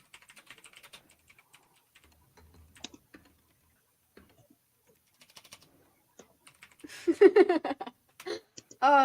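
Burst of computer keyboard typing, fairly close and moderately loud, clustered in rapid clicks toward the end after a quiet stretch with scattered faint taps and some background talk.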